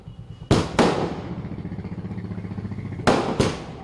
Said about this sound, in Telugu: కడపలో బాణసంచా పేలుతూ ఉన్నాయి